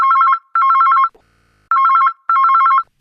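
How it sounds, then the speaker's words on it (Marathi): A telephone rings for an incoming call to a live broadcast, four loud electronic trilling bursts in two pairs separated by short pauses, close and clean with no talking. "याच विषयाच्या अनुषंगानं आणखीन एक फोन आलेला आहे"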